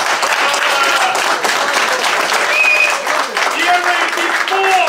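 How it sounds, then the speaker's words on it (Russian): An audience applauds steadily at a live event while voices call out and talk over the clapping, with some whistles or shouted tones rising above the crowd. "Аплодисменты, пожалуйста."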